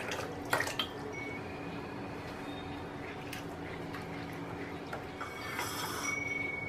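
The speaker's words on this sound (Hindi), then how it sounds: "पहले हम गेहूं को पानी डाल के धो लेंगे।" Wheat grains are washed with water, heard as faint, quiet sloshing and trickling with a few soft drips and splashes.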